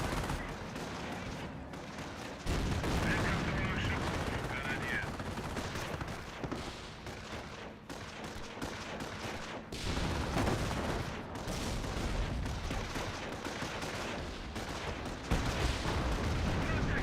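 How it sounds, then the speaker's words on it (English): Rifle fire and battle noise from a Company of Heroes match as infantry rifles hit a Panther tank, dense continuous crackling gunfire with heavier booms layered over a rumbling combat bed, loud throughout. "Force rifles hitting the Panther"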